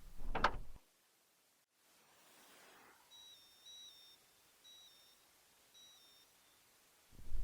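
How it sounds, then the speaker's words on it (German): A carp-fishing bite alarm on a canal bank gives a few short, thin electronic beeps singly at intervals over a quiet outdoor background, between brief thumps and rustling. "bis sich dann mein Bissanzeiger mit einzelnen Piepsern meldete"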